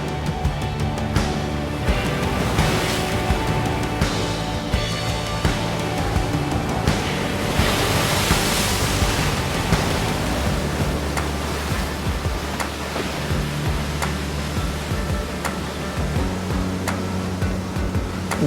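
Surf washing steadily onto Firuli beach in Split, Croatia, a continuous broadband roar of waves without clear breaks, moderately loud and unaccompanied by voices.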